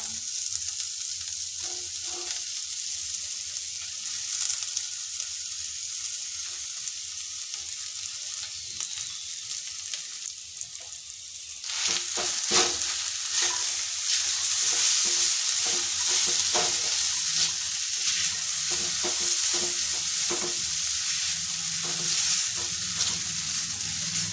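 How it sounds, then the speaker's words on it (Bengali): Boiled potatoes and chickpeas fry in a pan, a hissing sizzle swelling louder partway through as they are added, with frequent scraping stirs and utensil clicks close by and no voices. "এবার দিয়ে দিচ্ছি সিদ্ধ করে রাখা আলুটা"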